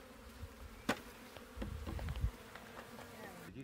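Honey bees buzz around a hive, a faint steady hum with a few louder passes close by and soft handling knocks.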